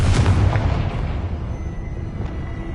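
Hogwarts Legacy Confringo blasting spell going off as a loud, deep boom right at the start, its low rumble fading over a few seconds with no talk.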